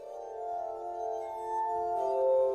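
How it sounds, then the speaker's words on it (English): A glass harmonica plays Mozart's Adagio, sustained pure ringing tones holding long chords, soft and clear with no other sounds. "You're hearing Adagio for Glass Harmonica, a composition by Mozart."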